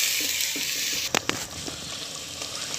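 Chicken curry with onion paste and yogurt cooks in a pan under a steady frying hiss, with a few close scraping knocks as it is stirred.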